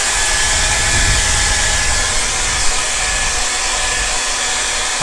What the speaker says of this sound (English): when blow drying your beard, you want to work